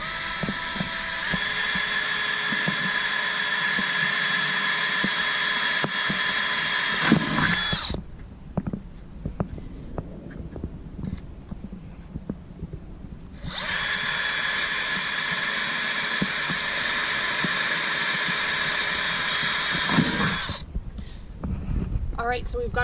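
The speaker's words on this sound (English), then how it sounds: "So we'll drill the first hole here in the side of the vent cover." A power drill fitted with a 3/16 inch bit bores holes into a Maxx Air RV vent cover, whining loudly in two sustained bursts separated by a brief pause filled with handling clatter.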